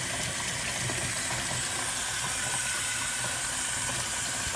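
Warm water pours into a Kuppet twin tub portable mini washing machine, making a steady, close rushing hiss that runs unbroken throughout.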